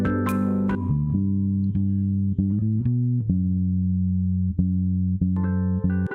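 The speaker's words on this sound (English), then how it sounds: "Here we have the bass guitar." Solo bass guitar track, with a run of deep plucked notes that change in a shifting rhythm, loud and isolated.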